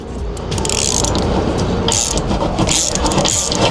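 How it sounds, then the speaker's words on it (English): A thread chaser is worked through calcium-crusted threads on an RV water heater, giving a loud, close metallic ratcheting and grinding that runs continuously with irregular scraping bursts. "so I'm going to run a threader through there to get them cleaned up real quick"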